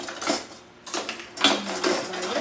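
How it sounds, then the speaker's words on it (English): Metal whisk clinking and scraping against a pot as chicken gnocchi soup ingredients are mixed together, a few quick rattling bursts in a short sequence, fairly close with no talking. "I'm going to just get a little whisk and whisk it together."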